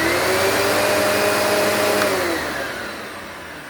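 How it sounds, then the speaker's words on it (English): A Kenmore Professional Clean Air System vacuum cleaner runs with a steady, loud whine and whooshing airflow, tailing off slightly toward the end. "let me fire up the Kenmore Professional Clean Air System"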